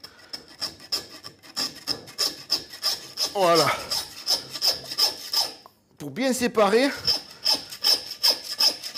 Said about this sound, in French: Tu prends ta scie. Et ici, tu vas mettre un petit coup de scie.